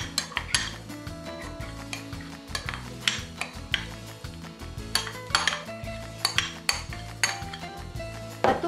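Nilupak being mashed with milk and melted butter, a run of repeated utensil knocks and clinks against a bowl in an uneven rhythm, close and fairly loud, with a steady music bed underneath and no talking.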